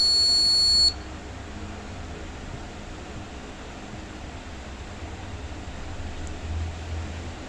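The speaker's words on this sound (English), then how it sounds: "it gives a beep alert when it reaches its threshold value" A Raspberry Pi multi-sensor gas monitoring system with an MQ8 sensor sounds its buzzer alert: a loud, steady electronic tone for just under a second, then steady background hiss.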